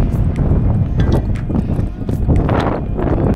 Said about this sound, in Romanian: Bate vântul destul de tare și aici.